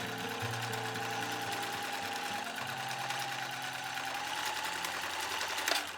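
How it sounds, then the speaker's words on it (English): A home sewing machine runs a straight stitch up the side seams of a fall garment, a steady continuous mechanical whir and rapid needle chatter that holds for several seconds, then briefly surges near the end. "Then it's just a straight stitch up both sides"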